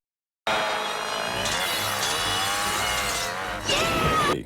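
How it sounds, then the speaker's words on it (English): A chainsaw revs loudly and steadily during a chainsaw-versus-machete fight in the 1985 horror film Friday the 13th Part V: A New Beginning, roaring alone for about four seconds with a sharper surge of pitch near the end. "they have a bit of a fencing match with a chainsaw and a machete"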